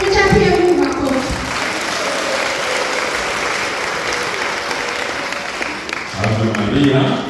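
A church congregation in Butembo-Beni breaks into sustained, dense applause. Voices are heard at the start and end, and the clapping fills the middle at steady volume.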